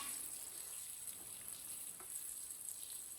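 Onions and green chillies frying in a pan as a spoon stirs them, a soft, steady sizzle with faint scraping, quiet and continuous for a few seconds, no talking.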